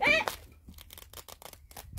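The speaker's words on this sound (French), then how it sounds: "Alors j'ai les petits ciseaux" Small scissors snip and tear through a parcel's packaging in a series of quick, light cuts close by, after a brief crinkle at the start.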